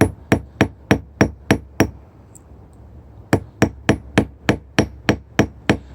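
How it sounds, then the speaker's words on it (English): A hammer peening a chain loop by hand: a loud, close series of sharp, evenly spaced metallic blows, about seven strikes, a short pause, then a second quicker run of about ten. "just kind of peen to the outside a little bit"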